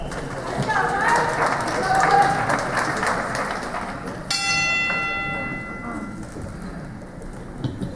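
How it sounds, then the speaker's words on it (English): A bell rings once at a martial arts Lei Tai tournament to start the second round, a bright metallic strike with a ringing decay, heard over crowd noise and applause. "There's the bell at the beginning of round number two of match number 21."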